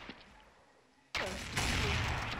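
A sudden loud gunshot burst in Counter-Strike breaks a quiet stretch, followed by a second blast and sustained close gunfire noise.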